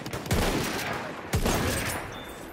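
Two loud, sharp gunshots about a second apart ring out in a Battlefield 1 sniping match in conquest mode, each followed by a lingering rumble of battlefield noise.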